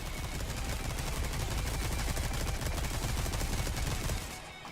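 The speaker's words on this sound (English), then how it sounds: "I have a machine gun. Ho ho ho. Basically a minigun. With the unlimited ammo thing." Minigun with unlimited ammo firing in Resident Evil 4, an unbroken rapid stream of loud close shots rattling for about four seconds before cutting off and fading.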